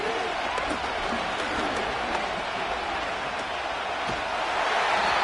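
A stadium crowd roars steadily throughout a Madden 25 video game football match between Miami and Seattle before a third-and-long play, a dense continuous wash of cheering with no clear breaks.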